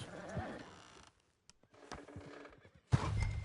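A horse in the Red Dead Redemption 2 video game gives a short whinny near the start, followed by quieter pauses, a few faint knocks and a sudden louder burst of rustling ambience at the end.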